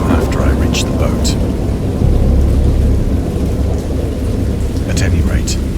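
A thunderstorm in the horror game Dagon brings heavy, steady rain and deep rolling thunder that fill the scene loudly and continuously, with a few sharper crackles breaking through.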